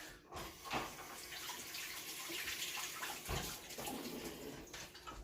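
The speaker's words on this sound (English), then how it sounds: "Let me wash my tomato real quick." A ripe tomato rinsed under a running kitchen tap, a steady close splash of water with small shifts as the fruit is turned in the stream.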